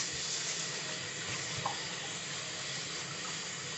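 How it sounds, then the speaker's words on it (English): Rice being rinsed under running water in a home kitchen before cooking alongside Spanish black beans, giving a steady, even rush and hiss of water that holds from start to finish with no one speaking. "I am going to rinse my rice."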